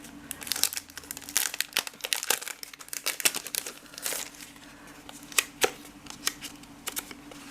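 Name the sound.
crinkling paper sticky note from a craft box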